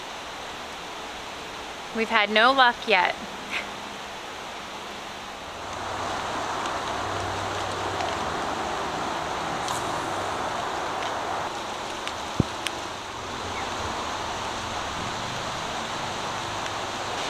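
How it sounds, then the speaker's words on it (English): Steady broadband hiss of rain falling outdoors in Alaska, continuous and fairly loud throughout, with a man's brief remark early on and a few faint knocks under the wash. "Well, it's starting to rain again."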